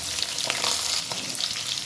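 Potatoes and chopped chilli fry in hot oil with a steady, dense sizzle that holds throughout, close and alone with no talk.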